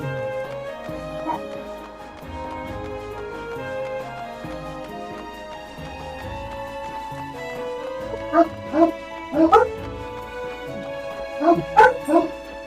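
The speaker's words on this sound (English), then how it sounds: "Run faster! The dogs are at our heels, Nocta!" Dogs bark in the Final Fantasy XIV: A Realm Reborn video game, with sharp, echoing clusters of barks in the later half over a sustained musical background score.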